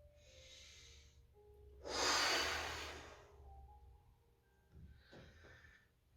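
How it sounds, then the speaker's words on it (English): Slow, deep breathing during a tai chi exercise: a soft inhale, then a strong, breathy exhale near the middle, and a gentle breath at the end, with no talking. "Take a breath in. Breath out."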